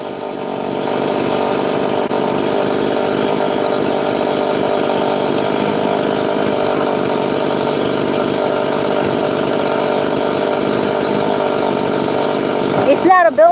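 A power saw cuts through plywood on a construction site in the Philippines, a loud sustained whining buzz that runs almost unbroken for over ten seconds before cutting off with a few clattering knocks at the end.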